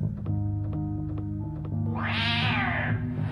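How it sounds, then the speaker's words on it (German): A cat in the horror video game Octave gives a single drawn-out meow over a steady droning game soundtrack with rhythmic low pulses. "Hey, eine Katze."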